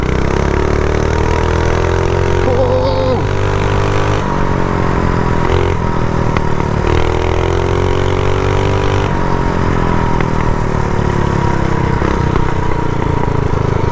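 A custom minibike with a powersports front end idles and revs loudly close by, its engine rising and falling in pitch over several throttle blips with a rattly, clattering running note throughout.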